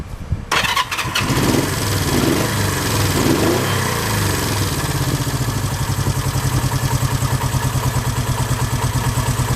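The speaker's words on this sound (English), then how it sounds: "now I'm going to start the bike up, and it's only going to run on 1 cylinder" A Honda 350 motorcycle engine cranks and catches, then settles into a steady, loud idle of about 1,000 RPM while running on only its left cylinder.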